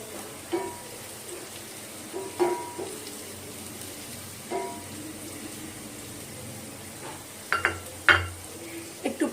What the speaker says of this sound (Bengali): একটু পরপর আলতো হাতে নেড়ে নিচ্ছি